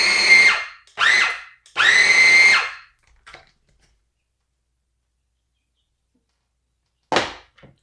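A food processor blending black beans whirs in three short bursts, then falls silent before one final quick pulse near the end.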